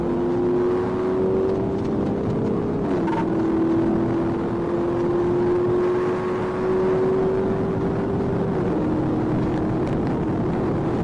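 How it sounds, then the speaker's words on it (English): A white Dodge Challenger races at high speed with a police trooper in pursuit at around 140 mph, giving a steady, loud engine drone whose pitch holds high with slight shifts, without any talk. "Trooper Williams pushes to 140 miles per hour, but the Challenger is just too fast"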